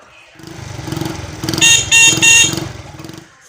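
A newly bought motorcycle horn honks three times in quick succession, loud and close, over the low idle of a motorcycle engine.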